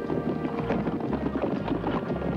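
A horse gallops with rapid, thudding hoofbeats under strong wind rush, loud and close, in a steady driving rhythm.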